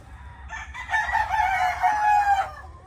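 A White gamefowl rooster being readied for a local banded elimination derby lets out a single loud, close crow lasting about two seconds.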